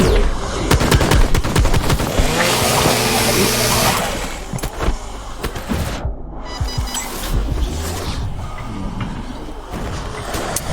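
Gunfire in a video game, with dense bursts of automatic shots and loud cracks, close and continuous, a brief drop near the middle, then more scattered shots and impacts.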